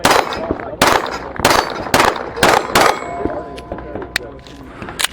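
Five loud, sharp shots from a Springfield Champion 1911 9mm pistol with a full-size frame and 4-inch barrel crack out at a steady pace, followed by metallic clinks, ringing and quieter handling noise.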